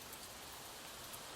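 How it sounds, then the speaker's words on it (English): Gentle rain patters softly and steadily, a faint even hiss of falling drops with no voices. "letting the gentle patter of rain soothe your mind"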